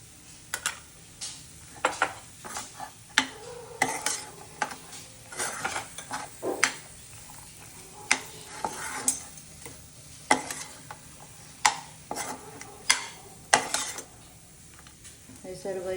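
Dry fruits being stirred into suji halwa in a pan make repeated scraping and clinking of a spoon against metal over a soft background sizzle, close and irregular, with occasional louder knocks.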